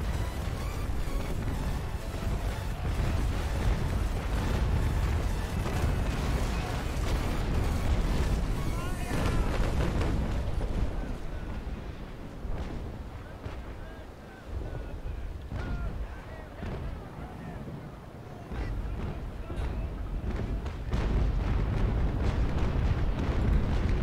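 Sailing-ship cannon fire in the naval battle game Naval Action: a dense, continuous roar of booming broadside blasts and rumble, loud and sustained throughout, easing briefly in the middle.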